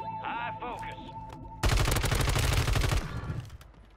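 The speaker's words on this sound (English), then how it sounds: "so it's only right to shoot some bodies" Rapid burst of automatic gunfire from the Striker submachine gun in Warzone on Rebirth Island, loud and dense for about a second and a half after a short stretch of voice and game sounds, then trailing off.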